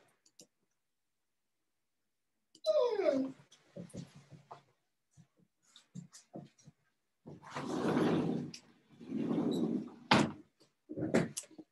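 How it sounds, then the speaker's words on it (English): A dog whines in a rising, sliding cry indoors, followed by bursts of scratching and door noise, including a brief sharp knock, with a few clicks in between. "That's a dog I'm going to let out in just a second."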